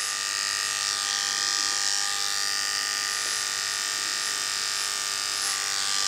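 Electric hair clippers buzz continuously and steadily close by while cutting a low fade, a constant high-pitched motor whine with no talking.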